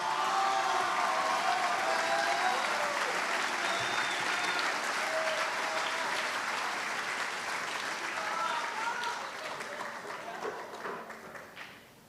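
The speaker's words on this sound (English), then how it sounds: "One more round of applause for all our award winners." A crowd at a high school senior awards night claps for all the award winners, sustained and dense, with scattered cheers. The applause slowly thins toward the end, and a voice speaks over it briefly.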